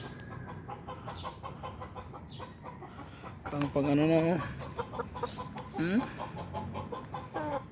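Chickens cluck around a breeder pen, with short clucks scattered throughout and a louder squawking call in the middle, while someone talks over them.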